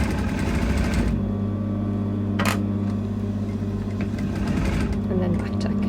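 A sewing machine stitches elastic in place while it is stretched to meet a notch. The steady mechanical whir runs throughout, with a short sharp click near the middle and a voice speaking over the machine.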